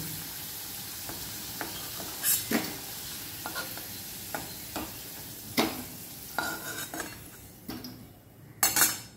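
Potato pieces fry in hot oil in a pan for a bitter gourd and potato chorchori, a continuous sizzle broken by scraping stirs and occasional clinks of a utensil against the pan, with no talking.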